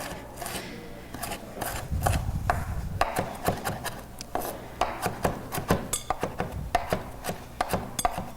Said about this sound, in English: Nice rough chop here.